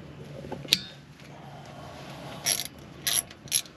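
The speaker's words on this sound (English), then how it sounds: "we got to take out the rotor retainer screw." A ratchet works loose the brake rotor retainer screw, a T30 Torx, on a 2020 Mercedes Sprinter 2500, giving a sharp click followed by three short bursts of quiet ratcheting nearby.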